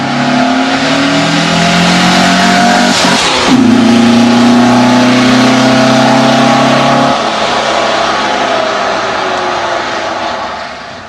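An old sports car with a manual rack-and-pinion setup roars close by, its engine revving and pulling hard through gears in a loud, sustained drone with shifting pitch.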